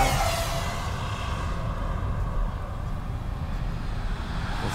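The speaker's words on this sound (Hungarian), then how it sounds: "Az furcsa, vicces, hogy hangosabb a drón mindennél." A drone hovering over a race track gives a steady, dense broadband whir with a low rumble underneath, continuous and fairly loud throughout with no voices.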